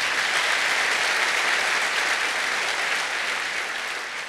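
A church congregation claps together in sustained applause, dense and loud, fading slightly toward the end, with no speech over it.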